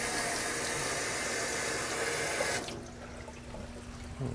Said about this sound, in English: rinse our fork off